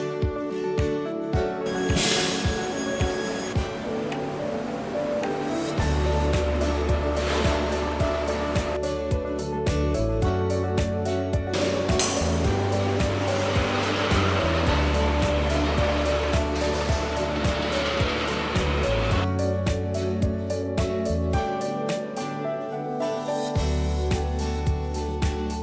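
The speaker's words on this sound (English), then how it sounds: "Set the metal pipe in the drawing bench and reduce the size step by step by different drawing molds." A drawing bench pulls a metal pipe through successive molds to reduce jewelry tube size, giving a continuous mechanical whir and hum with shifting intensity and brief pauses, steady and fairly close.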